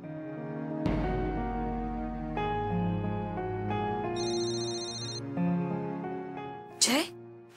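A phone rings in a Marathi TV-serial household scene: a short burst of bright, repeating electronic ringtone tones sounds over sustained background music.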